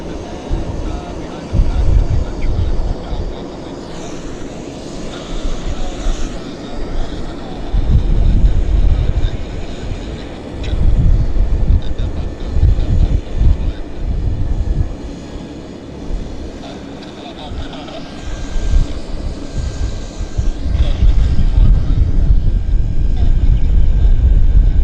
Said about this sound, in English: Looks like a Falcon jet, maybe.